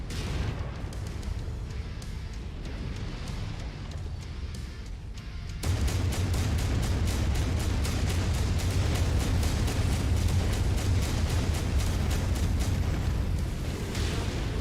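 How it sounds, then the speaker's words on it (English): Level 5 Ultra Auto Cannon firing in Mechwarrior 5: Mercenaries, a dense stream of rapid booming shots that kicks in partway through and runs loud and steady over a low rumble to the end. "Man, I love this level 5 Ultra Auto Cannon."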